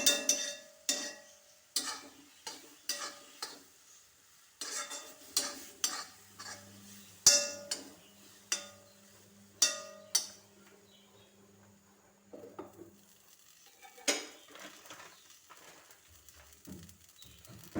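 A spoon stirs rava (semolina) in a cooking pan, giving about a dozen rhythmic scraping and clinking strokes, close and fairly quiet, that thin out toward the end.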